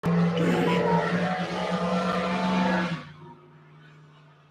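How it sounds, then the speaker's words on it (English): An old, ragged-sounding car passes along a street with a loud, rough engine roar and a steady drone that cuts off abruptly after about three seconds, leaving a faint hum. "You heard the car, the raggedy ass car"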